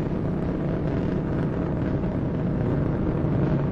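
Space Shuttle Endeavour's three liquid-fuel main engines during launch, heard as a steady, dense low roar, distant and rumbling, like wind-buffeted thunder that holds constant without a break.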